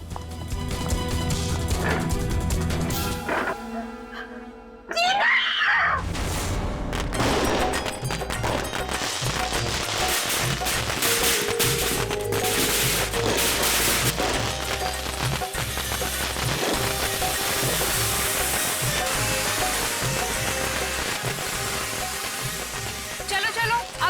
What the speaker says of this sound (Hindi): तू पटाखे चला के एकदम से भाग जाना